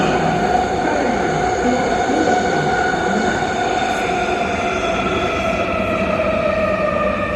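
A Vancouver SkyTrain Expo Line light rail train runs steadily with a loud, continuous rumble and whine, tonal hum layered over rolling wheel noise throughout.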